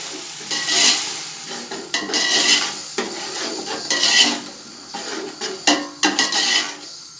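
Six medium tomatoes, ground to a purée, are stirred into sautéed onions in a pot for beef yakhni pulao, bringing close sizzling, scraping spoon strokes and clinks against the pot in uneven bursts.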